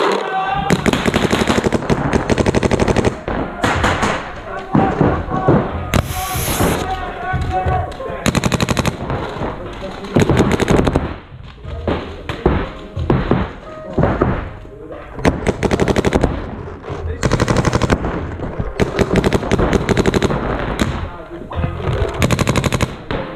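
A Shocker RSX paintball marker fires in rapid bursts of sharp pops during a paintball game, loud and close, with brief pauses between volleys and some shouting mixed in.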